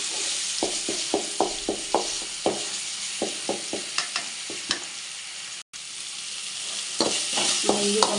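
Ginger and garlic sizzle steadily in a frying pan while a spoon stirs them with regular scraping taps, the frying hiss continuous and close, with a brief cut near the middle.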